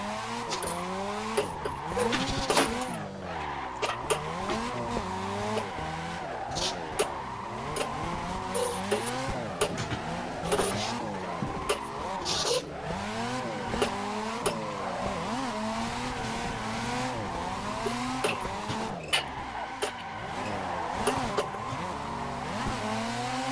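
Cars drifting in the racing game Assetto Corsa, engines revving and falling in repeated waves with tire squeal and skidding throughout, steady and fairly loud with no talking.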